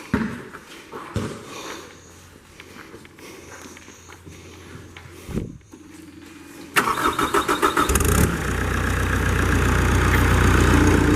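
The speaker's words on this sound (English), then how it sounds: "Hear that motor come to life." A 2021 Gehl RS4-14 telescopic handler forklift cranks and its engine catches, settling into a loud, steady idle after some quiet clicks and shuffling at the start.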